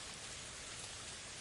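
Light rain falls steadily as a soft, even hiss close by, with no voices and no breaks across the short stretch.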